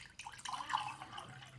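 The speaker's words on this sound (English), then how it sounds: "And then I fill it up again with water." Water pours into the pot of a 24V rice cooker holding millet, a soft, close trickle with small splashes and drips for about a second and a half, with no talking over it.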